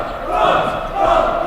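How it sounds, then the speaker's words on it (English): A student-section crowd in a school gym before a girls' high school wrestling dual meet yells and cheers loudly in two swelling waves, with voices mixed into the roar. "Crowd, it is going crazy."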